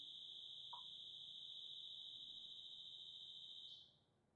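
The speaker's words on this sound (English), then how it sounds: "That was the house alarm?" A house alarm emits a steady, piercing high-pitched electronic tone, loud and continuous for several seconds before cutting off abruptly near the end, with no talking over it.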